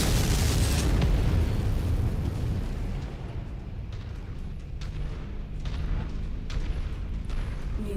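An enemy Assassin mech in MechWarrior 5 blows up in a loud, rumbling blast that fades into a lingering low roar with scattered crackles.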